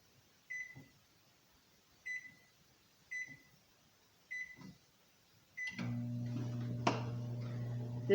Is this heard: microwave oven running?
yes